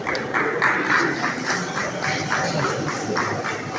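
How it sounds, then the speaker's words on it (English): Audience applause at a Nigerian estate surveyors' and valuers' awards night in Lagos, a steady, dense round of clapping from a hall crowd that holds evenly throughout without fading. "A warm round of applause"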